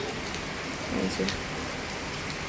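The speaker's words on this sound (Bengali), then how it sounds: "আর বৃষ্টি এখনও থামে নাই সন্ধ্যা হয়ে গেছে তারপরেও বৃষ্টি প্রচুর" Heavy rain falls outdoors in a flood-prone neighbourhood at dusk, a steady dense hiss throughout, with faint voices murmuring underneath.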